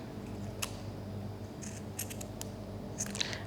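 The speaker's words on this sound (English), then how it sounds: "So that's a bit big, so I'm going to cut that down." Scissors snip through a craft piece for a pinecone bunny, a few quick separate cuts near and clear over a steady low hum.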